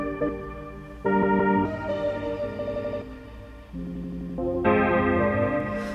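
Ableton Live effects rack glitch processing on a music loop: stuttering, chopped tonal phrases that switch abruptly every second or so, with chorus and distortion colouring, steady and fairly loud with no voice.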